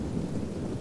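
A low, rumbling wash of thunder and rain fills a Total War: Rome 2 battle between Athens and Sparta, steady and dense for under a second.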